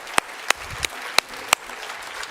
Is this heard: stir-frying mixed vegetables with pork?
no